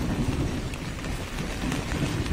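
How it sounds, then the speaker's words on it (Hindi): Steady rain falling during a trip to Thane, India, a dense, continuous hiss of drops on surfaces with a low rumbling undertone, close and even throughout. "और बारिश भी चालू हो गई।"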